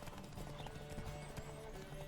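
Horse hooves clip-clop at a steady galloping rhythm in the Witcher 3 video game, moderately loud and continuous, with faint game ambience and an occasional whinny-like tone underneath.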